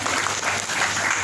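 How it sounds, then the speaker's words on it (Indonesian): Applause from an audience at a fitness session, honouring a woman; a steady dense wash of clapping fills the short stretch at even loudness. "Boleh tepuk tangan dulu dong buat ibu itu."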